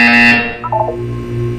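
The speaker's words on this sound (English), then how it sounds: "You will hear a buzzer. When you hear the buzzer, look down at the floor." A loud electronic buzzer tone from the Portal 2 test chamber sounds steadily for about half a second, followed by a short burst of chiming tones over a continuous low mechanical hum.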